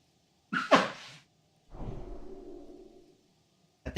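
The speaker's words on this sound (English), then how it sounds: "Been sneezing a little bit." Two sharp sneezes sound close and quick together, then a long breathy exhale follows after a pause, and a brief sharp noise comes at the very end.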